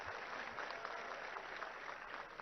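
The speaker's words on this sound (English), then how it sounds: "I think you should welcome him with a good round of applause, Prashant Reddy Gariki." Applause from a conference audience greeting a minister at an engineering university's inaugural event, a steady, fairly faint wash of many hands clapping for the whole stretch, no talking over it.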